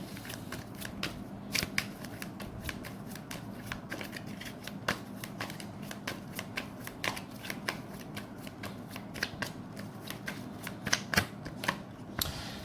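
Tarot cards are shuffled and drawn in a quiet room, giving a steady run of soft riffling and sharp flicking snaps close by, with no talking.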